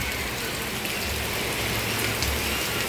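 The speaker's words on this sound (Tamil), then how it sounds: "வேணால் நல்லா மழை பொழிஞ்சு கொண்டு இருக்குது" Heavy rain pours steadily onto a street at a market junction in Jaffna. It makes a dense, even hiss at moderate volume with no voices.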